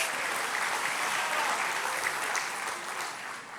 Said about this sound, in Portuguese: Quem recebeu, dá uma salva de palmas ao Senhor.